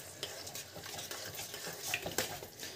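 Chilli chicken with soy sauce being stirred in a pan, a faint sizzle with soft scraping and clinking of the utensil against the pan in an uneven rhythm.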